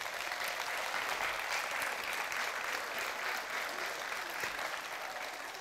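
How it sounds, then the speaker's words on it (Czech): An audience at the Folklorika Fest folklore festival applauds, a continuous, even wash of many hands clapping at moderate loudness from start to finish. "To si zaslouží potlesk."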